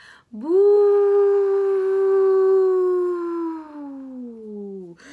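A voice imitates howling wind with one long, sustained wavering "oooo" that slowly falls in pitch before trailing off.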